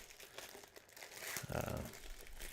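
Candy bar wrapper being pulled open, a dry plastic crinkling that goes on in bursts and grows louder and closer near the end, with no speech.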